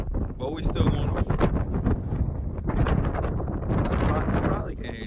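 Strong wind at the Acropolis in Athens buffets the microphone in loud, rumbling gusts that never let up, with a voice partly buried beneath the roar.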